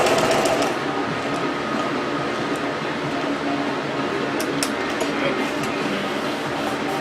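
Sewing machine stitching a band for a golf cart seat, a steady fast whirring hum that runs continuously and close by, with a few faint clicks.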